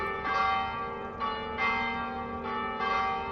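A church bell rings at a cemetery in Kozala, Rijeka, with three steady, resonant strikes about 1.2 seconds apart, each ringing out and overlapping the last against a quiet background.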